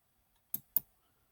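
Two quick, crisp clicks of computer keyboard keys close together, faint and alone in a quiet room.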